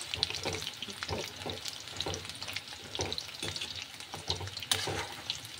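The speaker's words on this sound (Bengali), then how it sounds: "এই যে চিকেন পকোড়া ভাজছি" Chicken pakoras, chilled for an hour after coating, fry in hot oil with a steady, dense crackling sizzle, broken by the soft scrapes and knocks of stirring.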